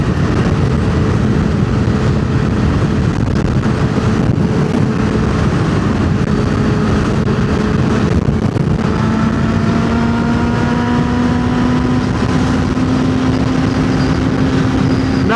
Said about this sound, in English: this wind is super hot right now. And the wind is bad.